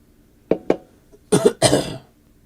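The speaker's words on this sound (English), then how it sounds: "Still trying to get over this stupid cough." Several close, dry coughs: two short ones, a pause, then two heavier, rougher coughs with a throaty rasp.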